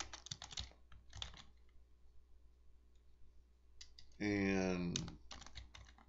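Keys clatter in quick bursts on a computer keyboard, with pauses between runs of typing. Someone speaks briefly partway through.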